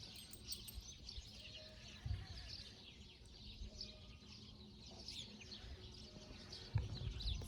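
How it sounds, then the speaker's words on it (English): Faint, scattered bird chirps and tweets from several birds in the distance over a quiet outdoor background, with a couple of soft thumps. "So many birds chirping."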